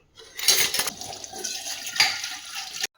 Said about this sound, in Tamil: அதனால வந்து நல்லா பாத்திரம்லாம் வாஷ் பண்ணிடலாம்